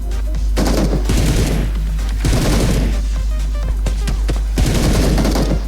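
Heavy volleys of automatic gunfire in the video game PUBG Mobile, loud overlapping bursts that come in waves with brief lulls between them and a constant low rumble underneath.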